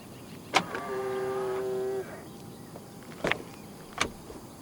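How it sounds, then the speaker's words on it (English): Proton e.MAS 7 electric car unlocking from the driver's door handle: a sharp click, then a steady whirring motor hum lasting over a second, followed by two more distinct clicks, all close and clear. "And to unlock the car, just press the indented area on the driver's side door handle again."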